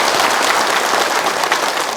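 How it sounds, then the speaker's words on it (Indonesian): Audience applause for a preacher at an Islamic religious gathering, a brief, dense wash of steady clapping from a crowd, loud and continuous for two seconds. "Buat tepuk tangan untuk Ustaz Munawir."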